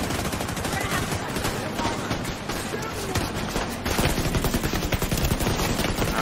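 Sustained gunfire in The Division 2: dense automatic bursts and overlapping shots crackling without pause for the full span, loud and close, with game sound effects layered in.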